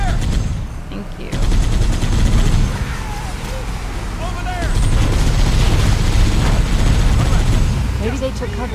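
Rapid gunfire and heavy bursts in a Halo: Combat Evolved firefight, dense overlapping shots and booms running throughout, loud and close, with occasional voices underneath.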